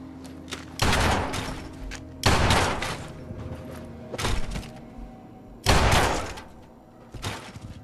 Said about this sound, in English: Kellogg's signature pistol there